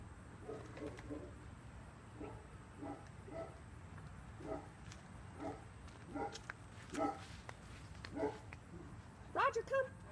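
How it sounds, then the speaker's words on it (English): Neighbouring dogs bark repeatedly from a distance during outdoor dog recall training, a string of faint, evenly spaced yaps with a few louder barks near the end over quiet background hum. "Oh, the neighbor dogs."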